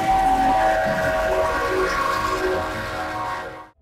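A train rolls through a railroad crossing where a car carrier's trailer is stuck on the tracks, its horn blaring in long steady tones over loud rumbling that fades at the end.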